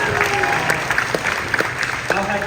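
Audience applause at an AV CON presentation, a dense patter of clapping with crowd noise throughout, overlapped by talking.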